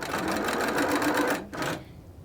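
A sewing machine stitches a quilt block border in a fast, steady run of needle clatter, close and loud, stopping briefly near the end and then quitting.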